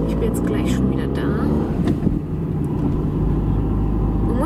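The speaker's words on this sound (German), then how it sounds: "weil ich muss mein Auto einparken" A car's engine hums and rumbles steadily from inside the cabin while the driver parks, loud and continuous with faint shifts in pitch and someone talking over it.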